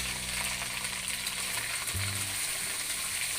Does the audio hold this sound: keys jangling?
no